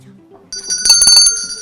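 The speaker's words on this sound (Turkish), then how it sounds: "sarı masa zili çaldı" A bright electronic quiz desk bell rings out sharply after a moment of low murmuring, its tone sustained for about a second.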